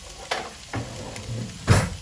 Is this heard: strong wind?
no